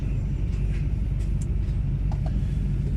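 Vehicles of a convoy approach on a French motorway near a tunnel entrance, heard as a continuous, moderately loud traffic rumble with a few faint higher squeaks and no talk.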